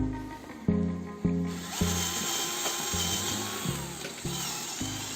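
A cheap Mailtank SH 216 cordless drill with a small bit whirs in short bursts, stopping and restarting about eight times in quick succession, close and clear with no talking.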